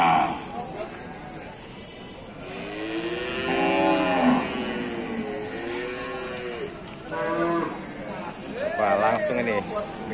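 Water buffalo moo repeatedly at a busy livestock market, several long, drawn-out lowing calls rising and falling nearby, with people talking and crowd murmur in the background.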